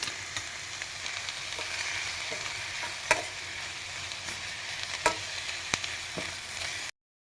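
Cumin seeds and fresh coconut roast together in a pan for a village-style bassaru, a steady low sizzle punctuated by several sharp spatula taps and scrapes, then abrupt silence at the end.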